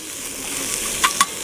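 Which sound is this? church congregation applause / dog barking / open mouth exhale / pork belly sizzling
pork belly sizzling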